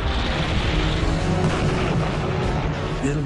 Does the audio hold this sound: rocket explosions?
yes